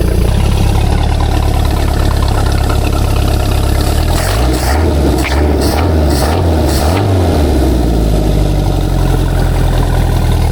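A loud engine idles with a deep, rumbling drone, its exhaust sputtering and pulsing unevenly midway through before settling back to a steady idle.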